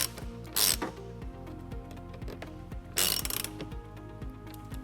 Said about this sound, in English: Then we'll tighten it up using a 10mm socket.